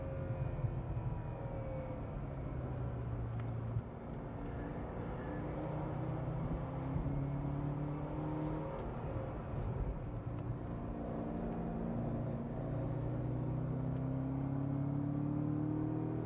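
A car engine runs flat out under heavy load, with a low mechanical knock reported, giving a steady, loud, continuous drone with a rising whine near and alone throughout, no talking.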